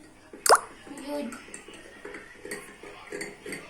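A spoon stirs chocolate into a bowl of milk, giving one sharp clink against the bowl followed by a series of soft, light taps and scrapes, quiet and close.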